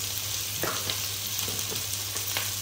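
Chicken and broccoli are stirred in a hot pan, with a steady frying sizzle and scattered scraping stir sounds running throughout, close and alone with no talk.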